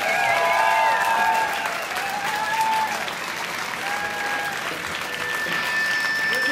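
A live concert crowd applauds a band at their anniversary show in a club, sustained dense clapping with faint whistles and voices mixed in.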